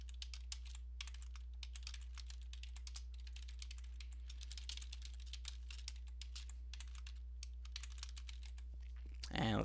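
Fingers type C++ output statements on a computer keyboard, a close run of rapid, uneven key clacks in bursts with short pauses, over a low steady electrical hum.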